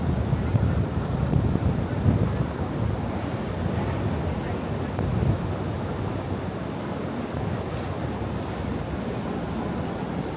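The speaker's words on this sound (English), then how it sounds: "This is like really windy." Strong wind buffets the microphone in a continuous roaring rush on a street in Manhattan, loud and unbroken throughout.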